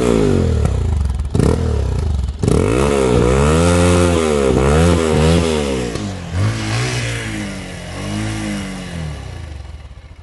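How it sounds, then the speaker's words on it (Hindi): A Bajaj Pulsar 220 motorcycle with 34,000 km on it revs repeatedly close by, its exhaust note rising and falling in a series of quick throttle blips before easing back toward idle. "आइए इसका एग्जॉस्ट नोट सुनते हैं।"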